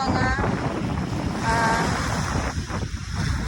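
Rough surf at the Manila Bay dolomite beach, a steady wash of waves heavily buffeted by wind rumbling across the microphone, with no talking.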